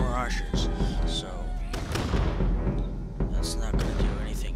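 Cannons boom repeatedly in a Totally Accurate Battle Simulator battle, loud overlapping blasts and gunfire rolling through the whole stretch, with a voice talking over them.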